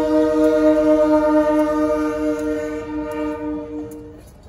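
A loud multi-tone train horn holds a long, steady blast and then cuts off, with the low rumble of Union Pacific freight locomotives running light through Cedarburg fading afterward.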